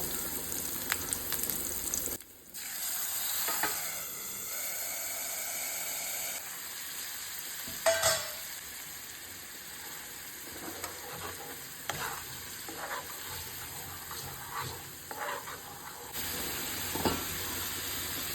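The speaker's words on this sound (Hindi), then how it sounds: "इसमें ना ऐड करेंगे थोड़ा सा और तेल और उसमें डालेंगे बारीक चॉप किया हुआ गार्लिक और हमारा काफिर मसाला।" Chopped garlic and chicken cafreal masala frying in a little oil in a pan, with a steady close sizzle, stirring scrapes and a few sharper clatters of a spoon against the pan throughout.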